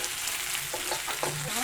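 Garlic and onion frying in oil as the base for pork adobo, a steady soft sizzle throughout with a few brief stirring scrapes, no talk over it.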